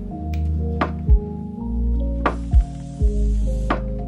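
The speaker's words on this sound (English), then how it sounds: "Time to clean my gouache palette." Wet gouache paint squelching as a paint palette is cleaned: a handful of soft, close squishes and dull thunks at uneven intervals.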